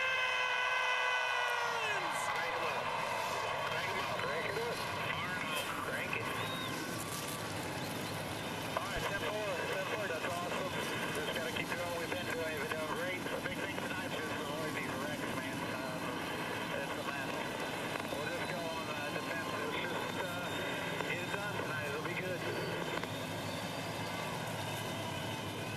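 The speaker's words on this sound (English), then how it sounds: "Engines have fired." Dozens of NASCAR stock car engines fire and rumble together at the Martinsville track for the 2007 Subway 500, a dense continuous roar that holds steady and loud from start to finish.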